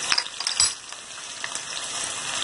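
Meat frying with spices in a pan for Delhi-style aloo gosht, a faint steady sizzle with a few brief stirring clatters near the start, no voices.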